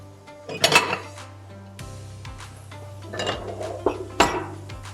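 A cooking pan is lifted off a home kitchen stove while preparing chekan karahi, giving a few loud metallic clanks and clinks near the start and again later, with softer scraping and a low steady hum between them.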